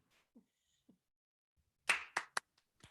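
A few scattered, isolated claps at an online senior awards show for film and media production: sparse, sharp hand claps, faint at first, then a short louder cluster of four or five near the end.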